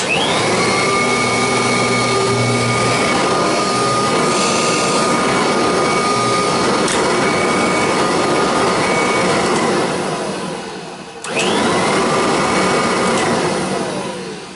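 A loud, freshly tuned-up MD central vacuum motor roars steadily with a high whine, cuts out briefly, then spins back up and keeps running.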